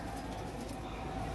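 Red-eyed pigeons coo steadily through a short stretch, with soft low murmuring calls running continuously beneath a faint background.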